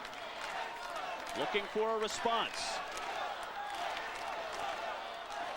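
A crowd at a 2000 high school wrestling state final roars steadily throughout, a broad, continuous wash of cheering with a commentator talking over it.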